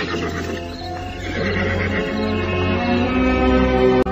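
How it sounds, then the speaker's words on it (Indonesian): Two newly bought horses tied to a tree neigh and whinny loudly and close by, with overlapping calls and a faint shuffle of hooves throughout. "mengikat kedua ekor kuda yang baru dibeli itu pada sebatang pohon"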